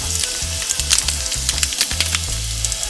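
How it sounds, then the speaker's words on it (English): Curry powder toasts in a hot pan for Jamaican curry chicken, sizzling loudly and steadily with sharp crackles and pops while it is stirred, and no voices are heard. "we are technically toasting the curry just to heighten the flavor"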